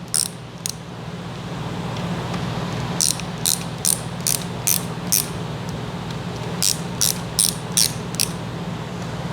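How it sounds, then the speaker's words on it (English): A hand ratchet clicks in quick bursts of sharp, close ratcheting as connecting rod cap bolts on a 392 HEMI with forged rods are snugged, over a steady background hum, no speech. "Get our ratchet, snug it up."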